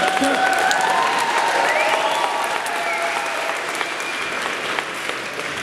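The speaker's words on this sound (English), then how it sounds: "no, you got to clap." A concert audience at Union Chapel in London applauds warmly for a show, with a thick wash of clapping and a few cheers that fade slightly toward the end.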